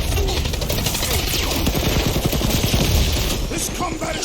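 A big gun firing in the Guardians of the Galaxy video game, a loud rapid burst of machine-gun-like shots in dense fusillade, with combat noise and voices around it.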